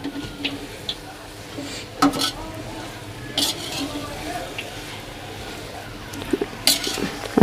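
Carrot halwa with sugar is stirred in a kadhai, a spoon scraping and clinking against the metal pan over a soft sizzle in irregular strokes.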